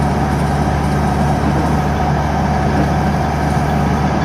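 A Chevrolet S10 with a 2.2-liter turbo diesel held at wide open throttle in fifth gear on the road: a steady, loud, droning engine roar with constant road and wind noise and no breaks.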